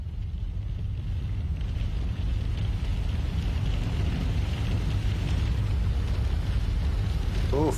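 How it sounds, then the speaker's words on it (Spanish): Heavy hail pounding down in El Alto, a dense, continuous rumbling clatter that stays loud and steady throughout, with no voices. "Uf, cómo le está dando, ¿no? El granizo."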